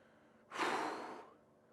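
A single deep exhale comes through the nose and mouth during a resistance-band hamstring stretch, a soft, close breath lasting under a second in an otherwise quiet room.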